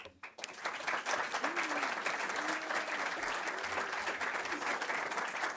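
Audience applause at the London Critics' Circle Film Awards ceremony, a dense burst of many hands clapping that starts abruptly and holds steady and loud throughout, close and filling the room.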